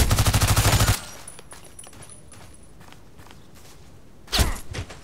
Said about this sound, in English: So let's do some shots here